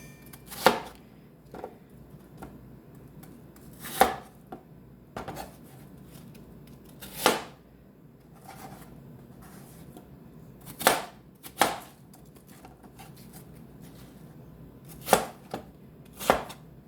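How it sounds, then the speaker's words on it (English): Apples are chopped with a knife on a cutting board for homemade applesauce, heard as about a dozen crisp, isolated chops spaced irregularly, with quiet pauses between them. "If you have a big chopping knife, you can cut more pieces at one time."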